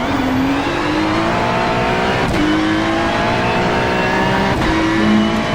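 GT3 race car engine droning steadily in a sim racing game at Portland, a loud, continuous whine rising as it accelerates, with two brief gear-shift breaks.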